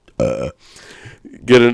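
A loud burp from a man at a live comedy show, two short bursts of belching with a brief spoken remark between them.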